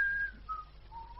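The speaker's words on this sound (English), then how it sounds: "Like, learning to whistle" A person whistles a few short, thin, wavering notes close by, with brief pauses between phrases, alone against a quiet room background.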